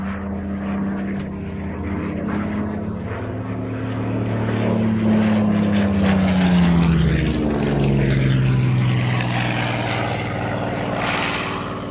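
Propeller aircraft at a Shuttleworth airshow fly past with a loud, droning engine roar. The pitch sweeps and shifts as they pass, and the sound stays strong throughout.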